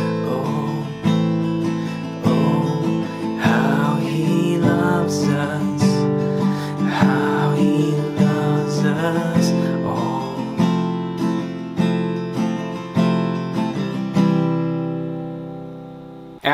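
Strummed guitar playing the pre-chorus chord progression of How He Loves, a steady rhythmic strum of sustained chords with regular attacks, close and clear, fading out at the end.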